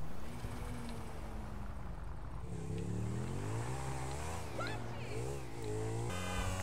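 A motorcycle engine in Grand Theft Auto revs and rises and falls in pitch as the bike pulls away, running steadily over a low drone with faint background talk.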